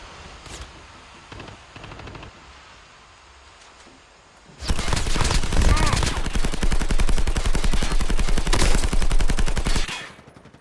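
Shooter video game combat opens with a few faint, distant shots over quiet ambience. Then loud, rapid automatic gunfire erupts close by and rattles steadily for several seconds before cutting off.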